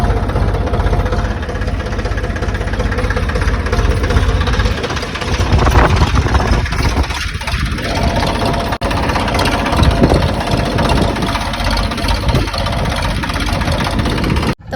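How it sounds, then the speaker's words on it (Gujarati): A tractor engine runs steadily on a farm field, a continuous mid-to-low rumble that stays loud and close throughout with slight shifts in tone, and no talk over it. "તો મિત્રો આપણે ટ્રેક્ટર હકાયું"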